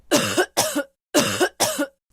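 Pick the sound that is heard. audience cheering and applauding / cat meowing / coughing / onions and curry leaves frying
coughing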